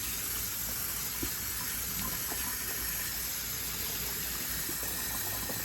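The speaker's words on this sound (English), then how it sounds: "I'm going to rinse this with cold water." Cold tap water runs steadily over pickle relish vegetables being rinsed, a continuous close hiss and splash without pause.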